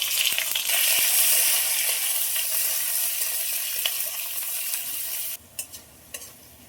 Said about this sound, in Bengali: পেঁয়াজগুলো খুব ভালোভাবে লাল লাল করে ভাজা হয়ে গেছে